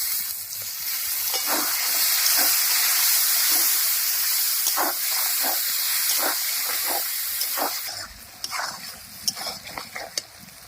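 A little water splashed into a hot pan of spiced chili powder, giving a loud, steady steaming hiss and sizzle with scattered stirring scrapes, fading and thinning toward the end.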